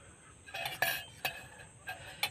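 Two metal forks turn potato and soybean pieces in batter, making soft, sparse clinks and taps against a bowl, quiet and close with no talking.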